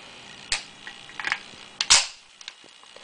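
A 1911 .45 ACP long-slide pistol with a snap cap is dry-fired, giving a few sharp, close metallic clicks of the trigger and hammer with small handling sounds between them.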